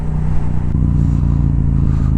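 Crowd of motorcycles gathered for the Kyiv motorcycle season opening, a loud steady rumble of idling engines with a low tonal hum and occasional clatter, close and continuous.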